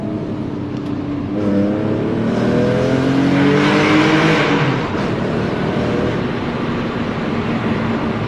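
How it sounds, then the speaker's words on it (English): A raspy V6 exhaust on a GT 3.2 accelerating hard on an unrestricted autobahn, engine note rising steadily through a long pull, loud and close with no talk over it. "It's a very raw sound with that exhaust. It's very raspy."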